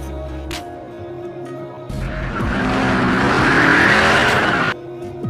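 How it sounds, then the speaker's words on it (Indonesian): A car roars off in a film scene, engine revving loud and close with a long tire squeal over a busy backdrop, rising for about three seconds before cutting off abruptly. "ia pun langsung menghilang dan kabur dengan mobilnya"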